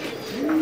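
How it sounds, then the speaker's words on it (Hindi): A single pigeon gives a short, close coo from a rooftop loft, rising into a sustained tone over soft background hum. "और ये इनके कबूतर हैं"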